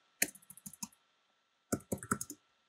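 Sharp clicks from a computer mouse or similar button at close range: a first burst of about five quick presses, a brief pause, then a second cluster of about six, each crisp and short, with no talking.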